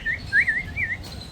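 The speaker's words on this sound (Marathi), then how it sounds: "इथं पक्षी पण आहेत गाईज" Small birds chirp in a few quick, bright tweets in a short burst, fairly close, at a rural outdoor spot with no talking.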